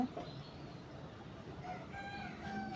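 Broody hens in a home henhouse give soft, sparse clucks and a few short calls against quiet background hiss, nearby but low in level.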